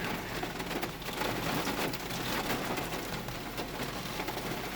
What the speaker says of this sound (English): It's actually raining so hard out there